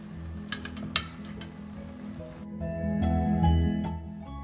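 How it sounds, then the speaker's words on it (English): Mussels in their shells go into a paella pan with rice. A couple of sharp clacks land first, then a low oily sizzle and bubbling swells and carries on, moderately loud and close, with no talking. "Now we are going to also add the mussels, which is cooked in their shell."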